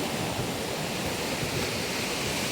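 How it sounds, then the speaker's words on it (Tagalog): Ocean waves during stormy weather, a continuous loud, dense roar of surf with no breaks or talk. "pag gantong may alon"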